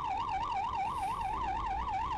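An SP Care ambulance siren in Rishra wails loudly and continuously, its rising and falling tone repeating in a quick, regular cycle close by.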